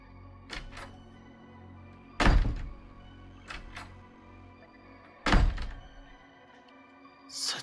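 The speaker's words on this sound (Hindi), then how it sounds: "मैं सोने की तैयारी कर ही रहा था कि तभी मेरे दरवाजे पर किसी ने दस्तक दी।" Knocks on a door in a quiet night-time horror setting, coming in a few separated bursts of sharp thumps, two heavier pairs standing out, with no voices.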